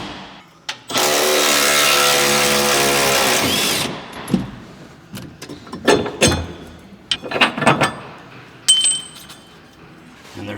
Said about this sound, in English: So next you're going to remove the shackle, which are going to be 2 21 millimeter bolts with a nut on the back side.